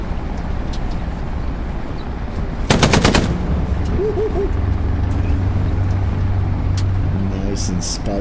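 A tank machine gun in the video game Hell Let Loose fires one short, rapid burst over a steady engine rumble. Ambient battlefield noise and owl-like hoots follow in the background.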